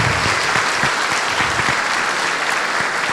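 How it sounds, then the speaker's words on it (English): A loud, steady round of applause from a dinner crowd for the local farmers, continuous clapping filling the room for a few seconds without pause. "Let's give this group a round of applause."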